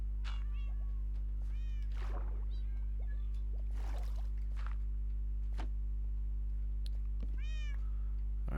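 Minecraft cats meowing repeatedly, several short rising and falling meows spread across the stretch at varying loudness, over a constant low electrical hum and with no talking.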